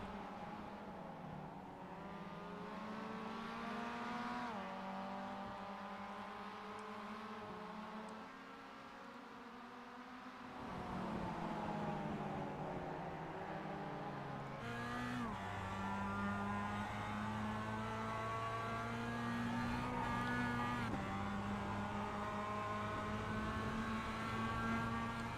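Mazda MX-5 race cars at VIR sweep past with sustained engine drone and rising, falling revs as gears shift, loud and continuous with several cars overlapping, no talk.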